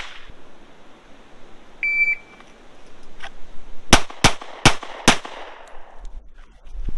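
At an outdoor shooting range, a shot timer gives a short electronic beep, followed by four sharp, loud gunshots in quick succession, with faint ambient noise between.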